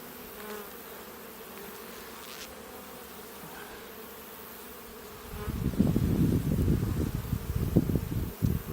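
Honey bees buzzing steadily around an open hive during an inspection, a soft constant drone that swells louder and closer partway through, with no talk.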